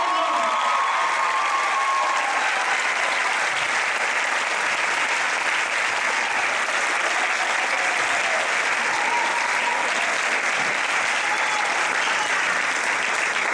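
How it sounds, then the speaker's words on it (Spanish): A school theatre audience gives strong, sustained applause for a student singer after a play performance, dense steady clapping from a large crowd with no break throughout. "Un fort aplaudiment."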